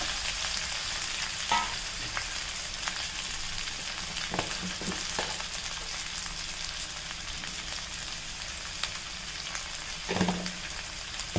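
Boiled potatoes fry in oil for potato masala, a soft continuous sizzle broken by a few spatula scrapes and taps.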